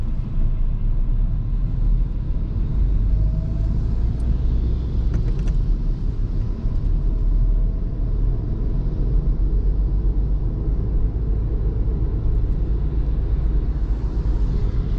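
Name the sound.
car driving in second gear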